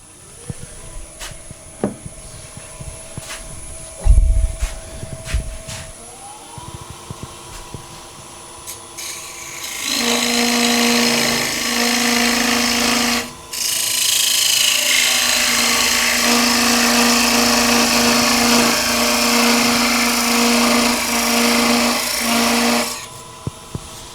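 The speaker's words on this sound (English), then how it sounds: "Turn the lathe on. And we'll go back with our parting tool." A wood lathe spins up while a parting tool cuts a bowl free, first a rising motor whine, then a loud sustained scraping cut with a brief pause, stopping near the end.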